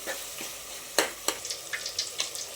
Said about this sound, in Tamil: நம்ம அடுப்பை மீடியம் ஃப்ளேமில் வச்சு நல்லா தக்காளி வெந்து வரட்டும். அது வரைக்கும் வதக்கிக்கலாம்.